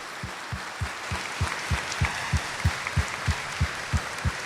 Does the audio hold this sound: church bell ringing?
no